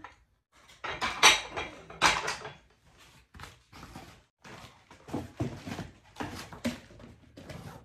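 Ceramic half plates clink and knock together as they are unpacked from their packaging, with several bright clattering bursts early on followed by softer, scattered handling clinks and rustles nearby.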